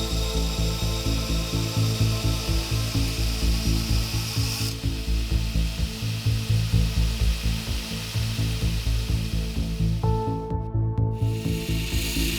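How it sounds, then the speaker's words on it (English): A steel sword blade is ground edge up on a power grinder, giving a steady loud abrasive whir with a pulsing rhythm that carries on continuously, with a brief harsher shift near the end. "So if I carefully grind it edge up, I can see where my edge wanders, true everything back to center,"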